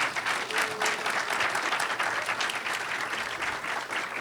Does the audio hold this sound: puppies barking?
no